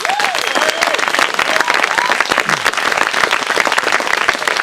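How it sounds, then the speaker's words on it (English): Sustained theatre-audience applause after a Robin Hood stage play, honouring the set builder and a cast member, loud and dense clapping with a few voices and whoops rising over it throughout. "I want a little round of applause for Sir Edward and various other roles, Mr. Paul Moulding"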